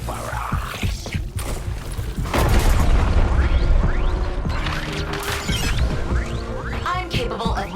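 Barrage of explosions in the video game Suicide Squad: Kill the Justice League, a loud rolling series of booms, crashes and debris impacts that builds midway and carries on with scattered bangs.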